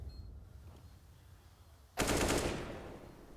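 A burst of automatic gunfire in CS:GO during a BIG vs Astralis match at IEM Katowice 2022 cracks in loud and close after a quiet stretch, then decays over the final second.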